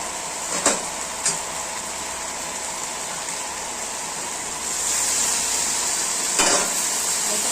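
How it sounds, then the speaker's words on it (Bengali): Sweet potato greens with broken lentil dumplings being stirred in a pan, a soft continuous sizzle with a few scraping knocks of the spatula, growing slightly louder toward the end. "এগুলো দিয়ে ভালো করে নাড়াচাড়া করে একটু জল দিয়ে ঢেকে রেখে দেবো"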